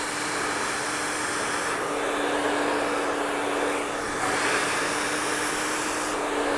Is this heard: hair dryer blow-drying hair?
yes